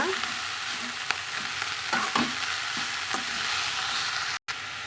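Spinach (palak greens) sizzles steadily in a hot pan while being stirred, with soft scraping strokes repeating every second or so over a constant frying hiss, close and moderately loud, no talking.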